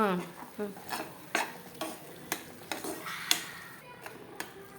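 A spoon stirs masala in a pan, with sharp rhythmic scrapes and clinks every half second or so over a soft sizzle, close up with no talk.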